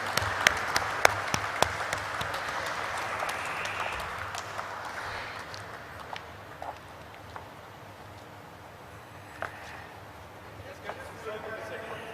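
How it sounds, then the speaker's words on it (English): Audience at a stock exchange listing ceremony for a finance company claps steadily, a moderate crowd applause that swells then settles, with sharp individual claps standing out and talk mixed in. "Let us keep clapping, ladies and gentlemen."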